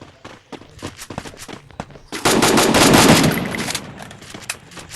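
M4A1 assault rifle fire in a Free Fire clash squad match: scattered light clicks and footsteps, then a loud dense automatic burst lasting about two seconds that fades out at the end.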